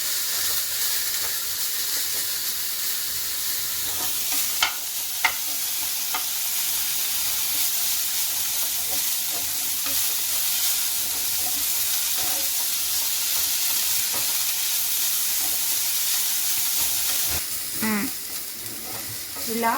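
Coriander stems sizzling steadily in a pan over a low flame as their water cooks off, a continuous close hiss with occasional stirring clinks and scrapes, no one speaking.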